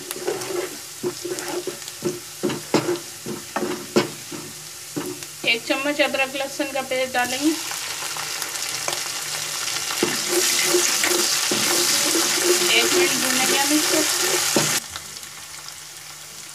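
Spices sizzle and crackle in a hot pan as they fry to light brown, amid occasional stirring scrapes, while a person talks; the frying hiss swells louder midway, then drops.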